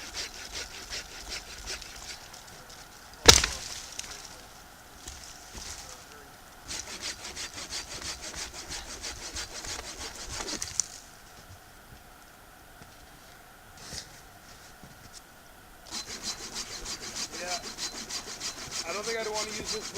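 A small multi-tool saw blade saws through wood in bursts of close, raspy back-and-forth strokes, separated by quieter pauses, with a sharp knock early on.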